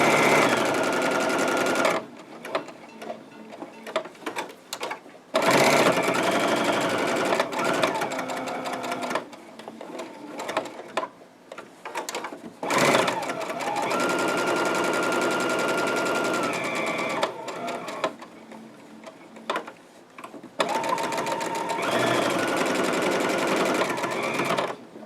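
A sewing machine stitches a narrow seam around a finger pot holder in bursts of rapid mechanical whirring, stopping and restarting several times, fairly close and loud, with a voice talking briefly in the pauses.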